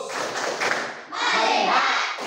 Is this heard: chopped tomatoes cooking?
no